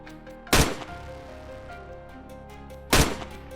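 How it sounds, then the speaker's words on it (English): Two loud rifle shots fired at a wild boar in a forest hunt, each a sharp crack with a ringing tail, spaced about two and a half seconds apart over quiet background noise. "Two shots took it down instantly."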